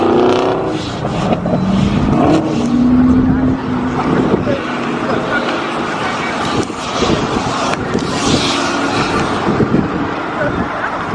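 A Chevrolet Camaro SS 1LE drives an autocross course, heard from a distance as a loud, roaring engine that rises and falls as it accelerates, with heavy wind buffeting the microphone throughout.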